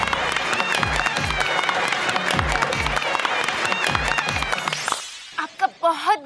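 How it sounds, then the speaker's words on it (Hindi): In a Hindi comedy serial scene, a crowd applauds and cheers in a dense, loud, continuous wash for about five seconds, over a low rhythmic swell. Voices take over once it stops. "तालियां"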